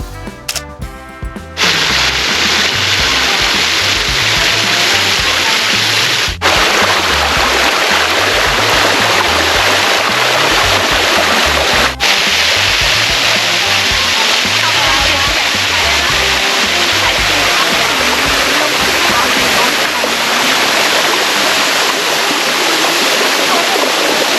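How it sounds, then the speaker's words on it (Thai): Tham Nam Sai waterfall in Phu Phan National Park: a steady, loud broadband rush of falling water that fills the whole span, with a brief clatter and a few sharp clicks near the start. "เราแวะน้ำตกทาน้ำใสเป็นที่แรกค่ะ"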